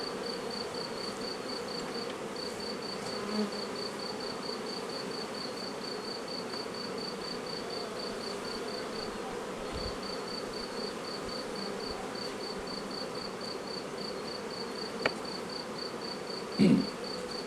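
A honeybee colony hums steadily and continuously as the queen is released, a dense close buzz with a faint high whine running through it and a few small knocks near the end.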